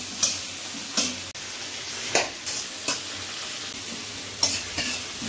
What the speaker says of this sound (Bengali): এই কড়াইয়ে তেল গরম হওয়ার পর পেঁয়াজ দিয়ে ব্রাউন করে ভেজে নেওয়া হচ্ছে